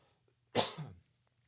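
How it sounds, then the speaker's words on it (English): A single short, sharp cough bursts out once in otherwise quiet surroundings. "It was a cough."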